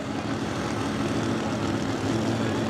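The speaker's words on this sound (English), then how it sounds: "you're hearing them rev up at RPM a little bit because that's centrifugal clutch" Small engines on Honky Tonk 300 racing machines at Millers Tavern rev steadily with a centrifugal clutch and forward-reverse gearbox, a loud continuous drone filling the clip with no talk.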